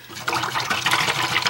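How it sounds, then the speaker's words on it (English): A paintbrush swished and rinsed in a water container during acrylic painting, giving a short burst of close sloshing and trickling water with no talking. "I'm going to wash this brush because"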